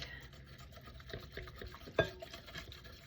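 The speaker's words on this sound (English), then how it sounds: "So let's give this" Bread flour and salt being whisked in a bowl make quiet, rhythmic scraping strokes. One sharper clink of the whisk against the bowl stands out midway, and the sound is faint and close, with no voices.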